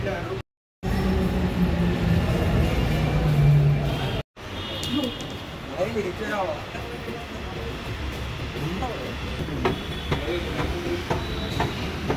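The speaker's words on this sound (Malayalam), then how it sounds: "അങ്ങനെ ഞങ്ങൾ മെട്രോയിലേക്ക് കയറാൻ പോവാണ്" A metro train runs along its track, a loud rolling rumble with rhythmic wheel clicks and brief squeals close by, with voices heard faintly beneath.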